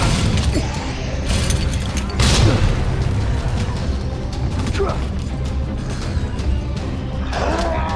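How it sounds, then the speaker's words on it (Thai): A loud booming grenade explosion in a video game bursts out early, surrounded by clanking mechanical game sounds and scattered crashes. "ใช้ระเบิดเคลียร์เลยดีกว่าตรงนี้นะ"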